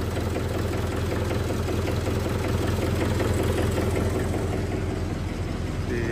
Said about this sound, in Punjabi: ਬਾਈ ਦਾ ਟਰੈਕਟਰ ਸਟਾਰਟ ਕਰਤਾ, ਮੈਂ ਕਿਹਾ ਜਾਨੂੰ ਗਰਮ ਹੋ ਜੂ